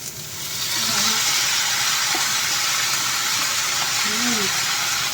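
Vegetables, cabbage among them, hit a hot cooking pan and set off a loud, steady sizzle that holds for several seconds, with a few faint clinks beneath it.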